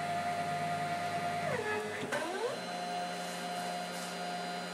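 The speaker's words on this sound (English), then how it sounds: "Tool now is a 3-flute milling cutter." Dry machining of a wheel hub on an Emco F1 CNC mill with a 3-flute carbide cutter: a steady, fairly loud mechanical whine and hum whose pitch dips and swoops as the cutter plunges midway, then settles back to a constant drone.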